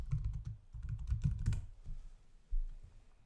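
Fast, light keystrokes patter on a computer keyboard up close, a quick run of clicks that slows and then stops.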